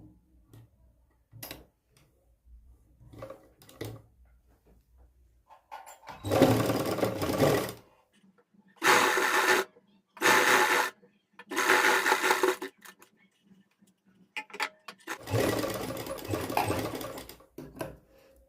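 A sewing machine stitches lace onto a garment in short bursts of close, buzzing whirr separated by quiet pauses with faint handling clicks.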